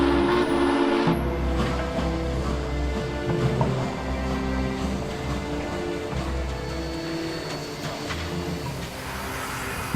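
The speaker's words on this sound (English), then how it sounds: "a 1916 Baldwin 280. They call her Mountain Thunder, and number 734 has got to be one of the hardest working steam locomotives on the East Coast" A 1916 Baldwin 2-8-0 steam locomotive of the Western Maryland Scenic Railroad rumbles loudly and continuously with a deep, heavy low-end chug and metallic rail noise, close by and without talk.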